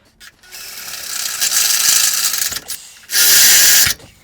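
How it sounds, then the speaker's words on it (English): A power drill whirs loudly, drilling out a hole to 1/4 inch for a Toyota 4Runner skid plate, in long bursts, with a brief pause before a final steady run, close up. "now we're drilling this out to the 1/4."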